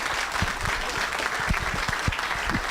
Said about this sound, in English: Let's give him a huge Spokane Valley round of applause